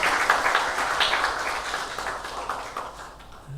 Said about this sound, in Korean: 우리 모두 감사의 박수 하겠습니다.